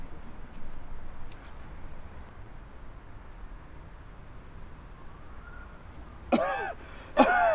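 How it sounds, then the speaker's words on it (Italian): A man coughs harshly twice near the end, a smoker's cough rising out of a quiet indoor room tone after a stretch of near silence. "Cavolo che tosse."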